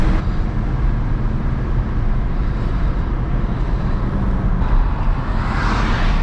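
Stock Nissan 350Z on wet backroads, a steady loud engine and road roar with tire hiss from inside the car, rising slightly near the end as it attempts a drift.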